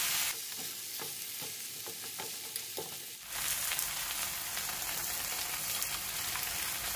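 Baked shrimp and glass noodles being mixed in a hot pot, first a series of scraping and clacking stirs, then a sudden, loud, continuous hiss of sizzling that fills the rest.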